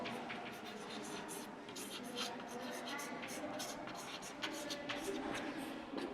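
A compass scratches and draws on paper during a school maths lesson, the soft, steady scraping heard close and faint throughout.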